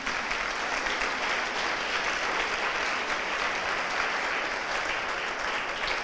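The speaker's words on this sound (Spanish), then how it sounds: "Denle un aplauso a Cristo." A church congregation applauds during a sermon, a dense, steady clapping that fills the room from start to finish without pause.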